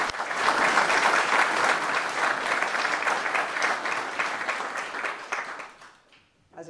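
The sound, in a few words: audience applause for Patricia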